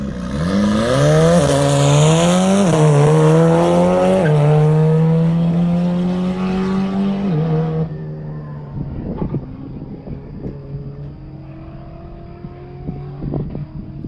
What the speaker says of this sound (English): Billy trying to put a little more heat in the tires